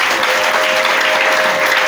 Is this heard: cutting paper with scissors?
no